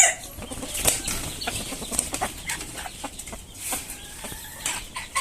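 A desi hen flaps its wings and clucks as it is put into a cage, brief bursts of wingbeats and rustling with short clucks, close by and moderately quiet.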